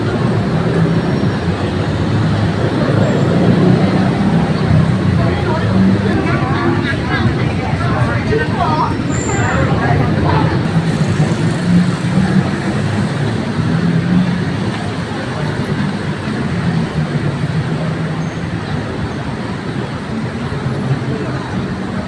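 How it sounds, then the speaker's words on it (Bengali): A Bangkok metro train rides along with a loud, steady rumble and hum from the carriage, and voices are faintly mixed in throughout. "চলে আসলাম মেট্রো ট্রেনে"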